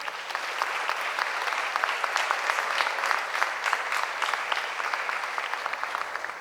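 An audience at the closing ceremony of a ballet academy gives a warm round of clapping, dense and steady with crisp individual claps standing out, sustained throughout.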